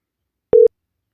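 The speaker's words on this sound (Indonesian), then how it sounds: "Lalu kita akan mencoba untuk menelpon." A single short telephone call tone sounds once, loud and clean, while dialing between PCs over a VPN phone setup, with silence around it.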